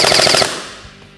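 A G&G airsoft rifle with the G2 series gearbox fires BBs on full auto in a brief rapid rattling burst of about six shots, loud and close, then stops abruptly.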